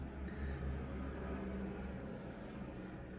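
A low-flying airplane passes overhead, a steady loud engine drone with deep rumble that holds throughout, swelling slightly early on and staying near, with no talk over it.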